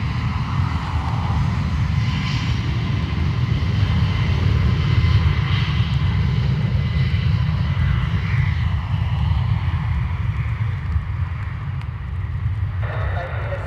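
An airliner's jet engines roar steadily at Dublin Airport as it departs from runway 10 right, a sustained loud rumble throughout, with radio chatter faintly over it.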